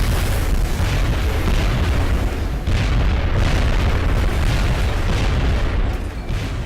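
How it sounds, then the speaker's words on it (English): Rapid run of heavy booms and blasts from the video game XCOM: Enemy Within, loud and continuous with rolling low rumble, several explosions overlapping without talk. "That's a lot of explosions."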